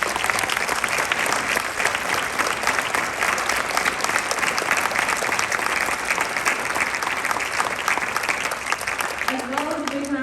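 Lecture audience applauding steadily for the guest speakers, a dense sustained wash of clapping across the whole stretch with some voices mixed in.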